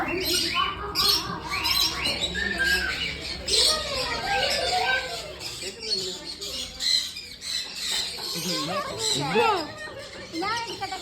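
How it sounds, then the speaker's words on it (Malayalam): A flock of birds chattering and squawking together, busy overlapping calls, fairly close and continuous throughout. "കുറേ കിളികളുടെ കലപ്പിലെ ശബ്ദമൊക്കെ കേട്ടതിന് ശേഷം"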